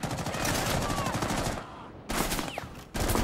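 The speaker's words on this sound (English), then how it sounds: "Stop shooting!" Rapid automatic gunfire in Rainbow Six Siege, loud dense bursts broken by two short pauses before firing resumes.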